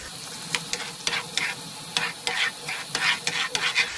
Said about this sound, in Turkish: 250 gram tereyağımızı eritiyoruz